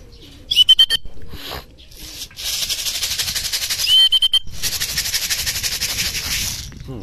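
Racing pigeons coo and flutter in a loft in Laguna, including a checkered young hen, with soft repeated coos, wing claps and chirps near the listener over a busy background of other birds.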